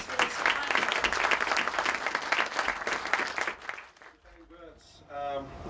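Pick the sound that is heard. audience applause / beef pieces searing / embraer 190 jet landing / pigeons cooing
audience applause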